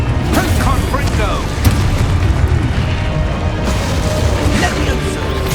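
Confringo blasting spell explosions in the video game Hogwarts Legacy, dense booming bursts and crackling impacts in a loud, continuous stream of combat effects with game music and voices mixed in.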